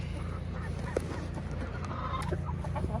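Backyard chickens, including a broody hen, cluck steadily in and around a coop, a continuous low murmur of fowl calls with a couple of sharper notes standing out.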